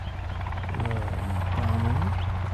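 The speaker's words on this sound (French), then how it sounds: "Encore un hélicoptère?" A video-game helicopter's steady rotor drone with a low thrumming hum, continuous and fairly close, with a faint wavering tone rising through it.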